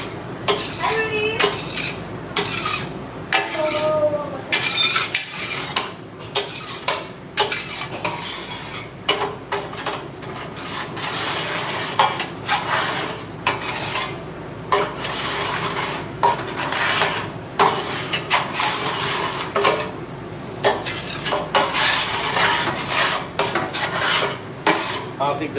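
A metal scraper works a flat top griddle during live cooking, giving steady bursts of scraping and clattering metal, near and loud, with faint background voices throughout.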